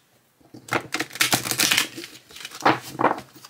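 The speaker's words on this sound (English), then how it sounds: "We'll do the riffle and see how they do." A 44-card astrology oracle deck is riffle shuffled, a crisp flurry of rapid card flutter followed by two short bursts of bridging and settling, close and alone without talk.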